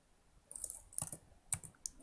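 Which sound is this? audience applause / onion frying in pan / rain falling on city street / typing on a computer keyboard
typing on a computer keyboard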